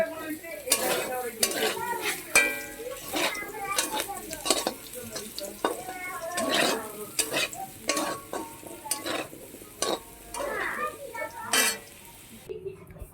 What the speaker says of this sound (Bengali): আলু ভেজে রাখছি